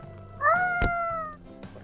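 A cat meows once, a clear rising-and-falling cry up close, with a sharp knock partway through and quiet room noise around it.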